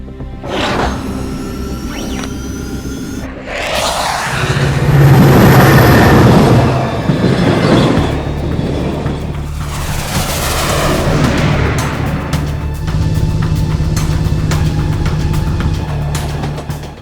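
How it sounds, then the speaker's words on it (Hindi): Cartoon train racing along in an animated action scene, a loud continuous rumble with booming, clattering surges and no speech. "हमें जल्दी से उस डायरेक्शन में ट्रेन का पीछा करना चाहिए।"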